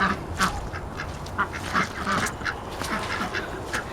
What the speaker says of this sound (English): But this is our duck coop.